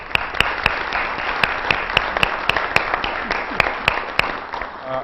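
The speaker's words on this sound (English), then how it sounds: "if we could give him a round of applause" Steady applause from a city council meeting audience fills the room, even and sustained, with a few sharp, distinct claps standing out above the mass of clapping.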